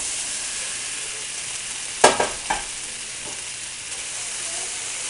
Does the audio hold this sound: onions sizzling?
yes